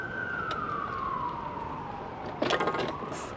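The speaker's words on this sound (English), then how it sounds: "I think there's a siren coming" A street siren wails with a slowly falling tone as it passes. It is fairly distant and steady, with a short burst of nearby clatter toward the end.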